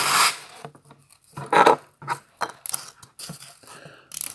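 Repeated scratchy rubbing strokes of sandpaper on styrofoam insulation, close up, in uneven bursts with short pauses between.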